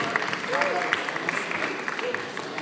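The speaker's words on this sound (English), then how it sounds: "Give him a round of applause." A panel audience claps in a brief, moderate burst of scattered applause that carries on under voices talking close by.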